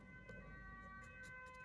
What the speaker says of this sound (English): you can probably hear that ambulance or fire truck